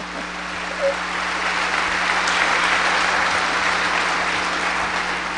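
Applause from an audience at a lecture for venture entrepreneurs in Korea, a sustained even patter of many hands at fairly loud level, holding steady throughout.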